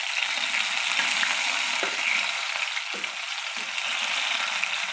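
Pointed gourd fries in oil in a pan, a continuous bright sizzle with soft crackles and a few stirring scrapes, close and steady with no talking.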